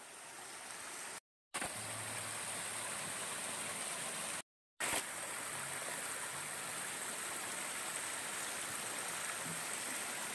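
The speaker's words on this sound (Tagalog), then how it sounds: "I have my own waterfalls." A small forest waterfall in Lebak pours steadily, its broadband rush filling the scene continuously at close range, broken by two brief dropouts of near silence.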